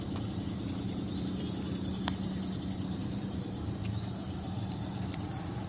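A car's engine runs steadily during a driving lesson, a low, even hum with no revving, heard from inside the cabin with faint ticks and no voices.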